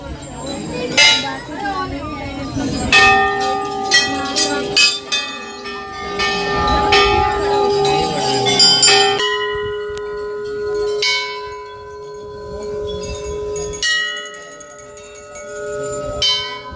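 Temple bells at Kainchi Dham, donated by devotees, are struck again and again, with bright metallic strikes and long ringing tones that overlap and decay, close by, with some voices in the background.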